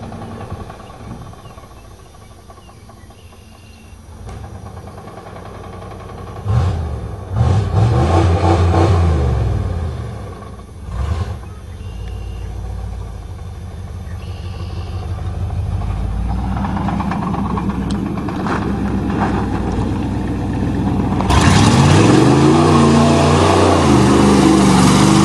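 A 1988 Chevy truck with a 305 engine revs repeatedly while mudding, loud throaty surges rising and falling over a rough idle, building to a sustained high-pitched roar near the end.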